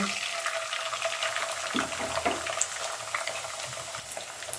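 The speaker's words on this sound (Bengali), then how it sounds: "পেঁয়াজটা আমার ভাজা ভাজা হয়ে গিয়েছে, এ পর্যায়ে আমি একটি ডিম দিয়ে দিব" An egg frying with fried onions in a pan for noodles, a continuous close sizzle with stirring scrapes and clinks.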